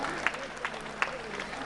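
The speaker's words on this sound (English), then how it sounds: "Let's give them both a round of applause" Crowd at a boxing arena in Dubai applauds both fighters after a 10-round 80 kg IBA championship bout, a steady wash of clapping with a few sharper bursts, heard alone with no voices on top.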